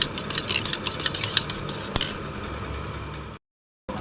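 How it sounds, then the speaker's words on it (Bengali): A metal spoon clinks and scrapes against a bowl while dahi vada is mixed with chaat masala, giving quick, irregular taps and stirring noises up close. The sound then cuts briefly to silence. "দিয়ে আমি এটাকে ভালো করে মাখবো, এটাকে মিক্স করে নেব।"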